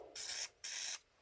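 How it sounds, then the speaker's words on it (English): Two short hissing bursts of Deep Creep penetrating oil sprayed from an aerosol can into a Mopar points distributor, close and loud with a brief gap between them. "I'm going to spray this down."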